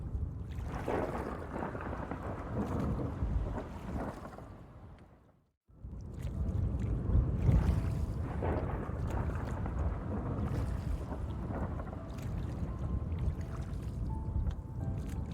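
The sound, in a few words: storm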